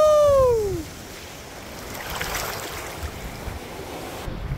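Surf washing ashore at Bondi Beach in Sydney at the end of winter, a continuous low rumble of waves with wind buffeting the microphone, after a short whistle-like tone at the start.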